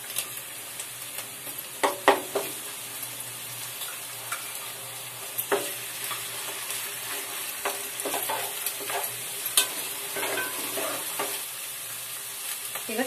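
Ginger garlic paste frying with onions in a pan, a steady low sizzle with scattered spoon taps and scrapes, heard alone.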